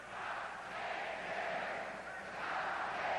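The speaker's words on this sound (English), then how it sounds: "The crowd chanting, the cup stays here" A large arena crowd at a 1985 Stanley Cup Final hockey game in Edmonton chants in swelling, rhythmic waves, loud and distant-sounding with a broad roar under it.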